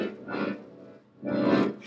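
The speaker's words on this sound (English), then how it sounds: "you ever wondered what cartoon sounds like when, you know, they, like, do the accordion thing?" Cartoon-style accordion squeeze, two breathy wheezing bellows swells with a reedy buzz, the second louder, heard close with no talk.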